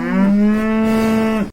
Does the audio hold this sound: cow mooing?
yes